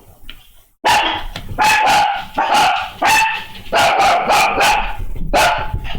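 A dog barks repeatedly and loudly at close range, a rapid run of about a dozen barks with brief gaps.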